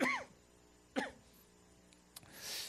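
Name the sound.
cough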